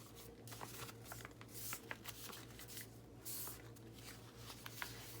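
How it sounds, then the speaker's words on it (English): Sheets of paper are laid flat, centred and folded to make a notepad for sewing, a close, soft, rustling crinkle in quick irregular bursts. "you're just going to lay your paper in the center, kind of center it up, get this all folded up in here"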